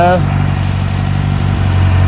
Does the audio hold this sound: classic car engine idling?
yes